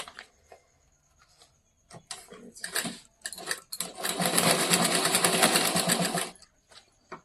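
A sewing machine stitches a bag in short bursts of clattering, then runs one longer steady stretch of rapid needle chatter before stopping, with light handling noise between the runs.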